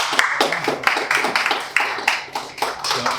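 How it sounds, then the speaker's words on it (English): Audience at a real estate talk clapping as a speaker is invited to the stage, a thin scattering of distinct, close handclaps in uneven rhythm, modest in volume. "So let's give Jack a warm round of applause"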